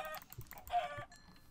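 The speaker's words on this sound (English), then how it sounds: "I'm gonna keep killing these chickens for feathers for arrows" Minecraft chickens clucking in-game while being killed for feathers, a few short clucks and squawks mixed with light keyboard and mouse clicks, fairly quiet.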